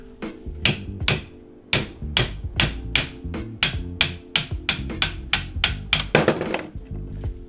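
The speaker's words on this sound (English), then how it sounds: "So if I just hit it with the hammer," A hammer strikes a classic Mini axle to knock off the outboard piece, about fifteen sharp metallic blows in a steady rhythm, close and loud with brief ringing between hits.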